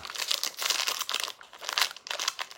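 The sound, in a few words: opening the wrapper of a Snickers protein bar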